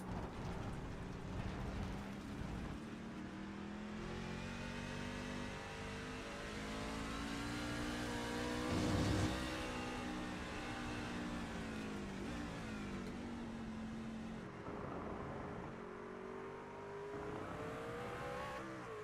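Onboard engine sound from a race car lapping Donington in the iRacing sim, a sustained tonal drone rising and falling through gear changes, with a brief louder swell near the middle and no talk.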